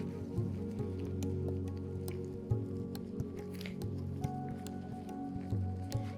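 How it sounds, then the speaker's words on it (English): Soapy washcloth rubbed together to work up a lather during a perineal care demonstration, a steady faint squishing and wet rubbing with a few soft drips, fairly quiet and alone with no talking. "Rub the washcloth together to create a lather."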